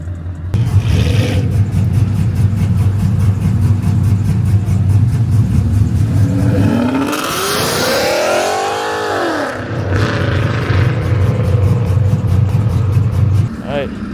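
A new Ford Mustang engine rumbles loudly at close range, swelling into a rising and falling rev in the middle before settling back to a steady idle, with people talking over it.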